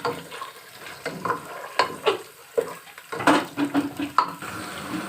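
Chopped onions fry in hot cooking oil with a soft hiss beneath repeated clatter and scraping of a spoon stirring the pan, close and moderately loud.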